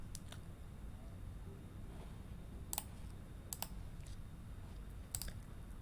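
Quiet, sparse mouse clicks sound at a computer while saving work in a low-code app, a few sharp clicks scattered over soft background hiss.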